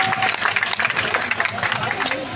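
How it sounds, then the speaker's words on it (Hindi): A crowd at a protest at Jantar Mantar breaks into sustained, loud applause, with a dense wash of clapping and a voice carrying over it. "जोरदार तालियां हो जाए"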